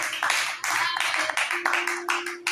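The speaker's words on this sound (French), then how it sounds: "Acclamons très fort la parole du Seigneur" Church congregation at a French-language service applauding hard, with steady rapid clapping in loud bursts that briefly dip and resume, alongside a sustained tone and some voices.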